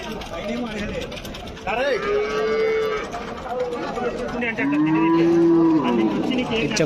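Two crossbred cows moo in turn at a livestock market, long, drawn-out calls close by, over a background of faint rattling and murmur.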